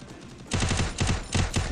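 Automatic gunfire in Garena Free Fire, loud close bursts of rapid shots starting abruptly after a quiet moment and repeating in three or four rattling volleys.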